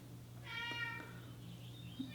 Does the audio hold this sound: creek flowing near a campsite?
no